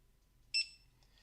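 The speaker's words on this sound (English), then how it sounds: "you should hear a beep" A single short electronic beep from a check-in app as its camera scans an attendee's QR code, clear and isolated over a quiet background.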